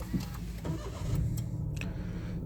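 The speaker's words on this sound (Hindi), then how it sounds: "सो ये गाड़ी स्टार्ट हो चुकी है।" A 2019 Toyota Vitz starts up, the engine catching with a brief crank and then settling into a low, steady idle heard close by, with a faint jingle of keys.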